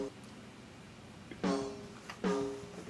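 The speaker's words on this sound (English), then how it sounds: "sort of like a snare parallel channel." Two snare hits from a parallel drum channel, shaped with an envelope shaper to stretch the sustain, land about a second apart, each a sharp crack trailing into a brief ringing body, fairly quiet and with no one speaking.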